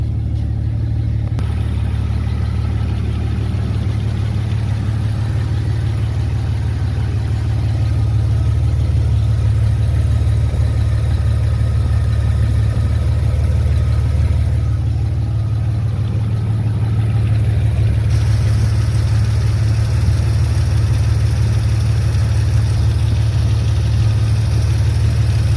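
Engine of a 1985 Chevrolet S10 pickup after a swap from a 700R4 automatic to a 5-speed manual, running at a steady, loud, low rumbling idle throughout with no speech.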